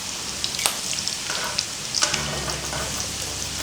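Prepared squid frying in hot oil, a steady close crackling sizzle with scattered sharp pops throughout, no voices.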